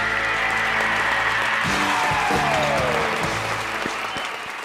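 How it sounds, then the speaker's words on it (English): Audience applause in a live studio setting for a guest, steady dense clapping for the whole stretch with a faint voice and tonal sounds running underneath. "one more round of applause for Mr. Pete Simonetti"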